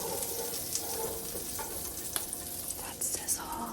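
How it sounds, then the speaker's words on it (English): Butter melting in a frying pan for chicken sizzles with a steady, close crackle, broken by faint stirring and scraping touches, with no talk over it. "That sizzle, so good"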